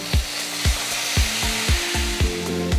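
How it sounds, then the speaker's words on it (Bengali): Water poured into a hot pan of fried kaikha fish, with a run of sharp, regular crackling pops over a steady sizzling hiss, close and loud. "এখন মাছটার মধ্যে কিছুটা জল দিয়ে দিতেছি"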